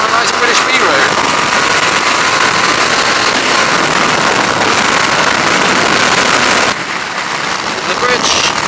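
A Harley-Davidson Street 750 motorcycle rides along a British B-road, its engine drone buried in loud, steady wind rush that dips briefly near the end.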